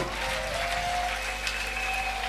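A church congregation clapping together during worship, giving a dense, steady roar of applause that stays at an even level throughout.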